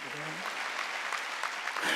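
A church congregation claps together during a Sunday worship service, a dense, steady wash of applause that fills the whole stretch, with a voice heard briefly at the start.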